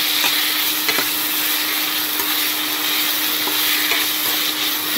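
Vegetables being roasted in a pan give a loud, continuous broadband hiss with faint clicks from stirring, steady from start to finish, no voices.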